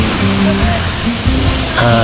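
The waterfall at Mother Falls in Baler, Aurora roars as a loud, continuous rush of falling water close by, with voices talking faintly underneath.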